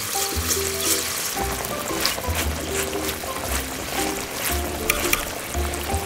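Escargot snails in garlic butter sizzle steadily in a pan as they are stirred, a close crackling fry with wet trickling bits. A low background murmur runs under it, and a voice may speak briefly.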